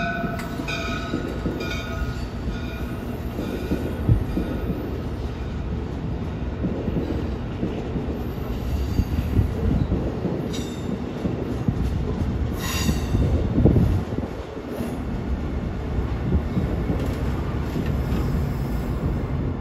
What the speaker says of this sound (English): here comes train 147, New York to Harrisburg. Cab car first.